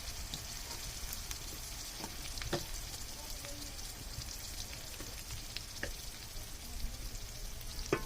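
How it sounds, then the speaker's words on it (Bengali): Ginger-garlic paste and turmeric fry with onions for country chicken bhuna cooked over a clay stove, making a soft continuous sizzle with scattered faint crackles and occasional stirring clicks, fairly quiet and without voices. "পেঁয়াজগুলো ভাজা হওয়ার সাথে সাথে আমি এখানে 2 টেবিল চামচ পরিমাণ আদা বাটা, রসুন বাটা অ্যাড করে দিলাম"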